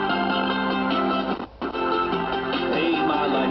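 Music playing through the small speaker of a 1988 Crosley CR1 radio, band-limited and boxy, continuous apart from a brief dropout in the middle, close by and at moderate volume.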